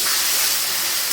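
Spice paste dropped into hot oil already tempered with dried red chilli, bay leaf, cumin and asafoetida, a brief loud, hissing sizzle that holds steady for about a second.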